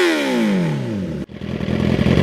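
A Suzuki superbike engine revs hard, its pitch sliding down as revs fall, then a sharp gear change or blip gives way to a steady, loud, throbbing mid-range roar up close.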